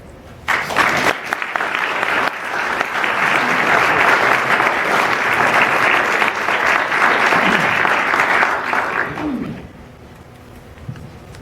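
Audience applause welcoming a speaker at an award ceremony, a steady, dense wash of clapping lasting about eight seconds before tapering off into quiet.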